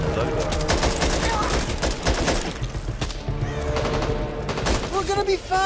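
Enemies open fire in Back 4 Blood, dense rapid gunfire and bursts of automatic shots rattling continuously and loudly, with someone talking over the shooting.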